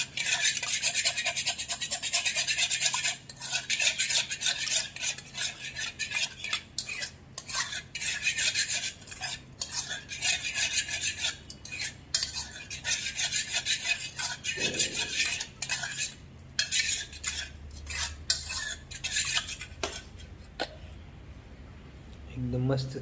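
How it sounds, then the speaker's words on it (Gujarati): A spoon stirring tempered yogurt (dahi vaghar) in a bowl, with rapid scraping and clinking strokes in irregular bursts, close up, while someone talks over parts of it. "અને બરાબરનું મિક્સ કરી દઈએ હલાવીને."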